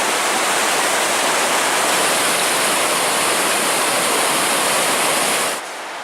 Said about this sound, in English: Then there's a small waterfall coming down right into the river.